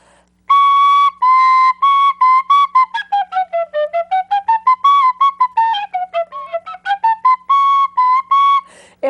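Silver-tone penny whistle in D with a blue top, played close and alone in a quick run of short bright notes, the melody dipping low and climbing back up before ending on held tones.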